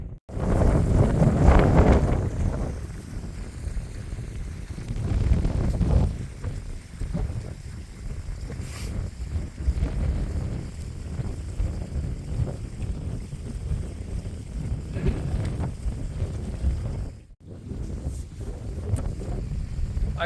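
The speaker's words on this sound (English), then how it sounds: "getting a bit blustery up here, and apologies if you can hear it" Strong, gusty wind buffets the microphone high on Kinder North Edge in the Peak District, a constant roaring rumble through the whole stretch with a brief lull near the end and no talking.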